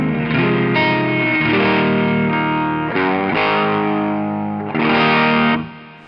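An electric guitar plays distorted chords and sustained notes through a Strymon Riverside multistage drive pedal with gain set at noon, loud and close, in several strummed phrases that ring out and fade at the end.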